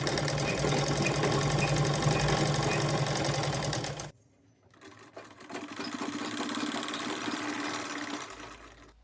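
A sewing machine stitches the waistband of a half saree, running loud and steady for about four seconds, then stopping briefly before a second, somewhat quieter run of stitching.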